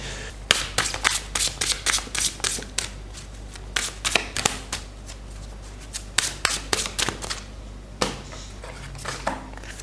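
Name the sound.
shuffling tarot cards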